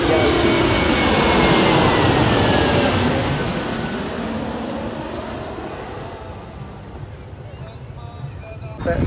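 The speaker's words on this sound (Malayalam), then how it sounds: "കണ്ടില്ലേ ഫ്ലൈറ്റാണ് നമ്മുടെ തലക്ക് മുകളിലൂടെ നമുക്ക് പോകുന്നത്" Loud roar of a jet airplane passing overhead near Calicut airport, swelling at first then slowly fading into a broad rumble; voices are heard faintly beneath it.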